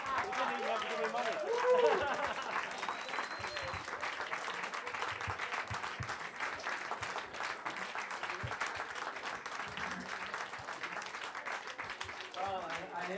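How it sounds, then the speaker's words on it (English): Audience applause at a quiz-style event on the Ming and Qing dynasties, a steady wash of clapping that holds for the whole stretch, with crowd noise and some voices mixed in. "I hear your applause for both sides, the winners and the losers"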